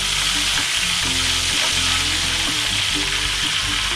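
Bak kian, five-spice Chinese meat rolls, deep-frying in oil make a loud, dense, continuous bubbling sizzle close by, with a faint rhythmic stirring texture underneath and no voices.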